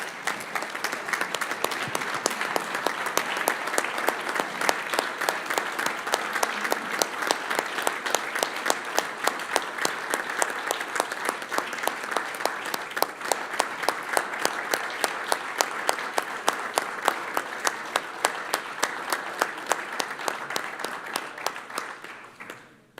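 An audience at a city council meeting gives a sustained round of applause, steady dense clapping for over twenty seconds with a regular rhythmic pulse through it, fading out abruptly at the end.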